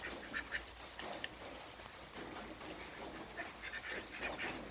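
A brown duck, a pet fed among other fowl, gives a series of nasal quacks scattered across the stretch, moderately near against steady outdoor background noise.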